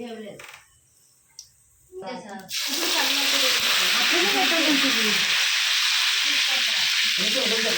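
Green chillies fry in hot oil in a pan, a loud, steady, close sizzle that takes over after a few seconds of talking.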